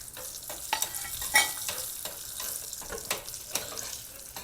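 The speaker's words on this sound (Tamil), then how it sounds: "எல்லாம் சேர்ந்து நல்லா சவக்க வறுத்து எடுத்துக்கலாம்" Raisins and nuts roasting in a pan for aval payasam, with a soft steady sizzle broken by scraping stirs and a few sharp clinks of the spoon against the pan.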